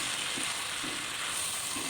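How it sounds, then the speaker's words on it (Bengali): Bottle gourd greens sautéing in spices after potatoes in a pan, a steady soft sizzle with faint stirring scrapes, close and low in level, no voices. "তারপরে শাকগুলো হালকা করে আমি মশলার ভিতরে কষিয়ে নেব।"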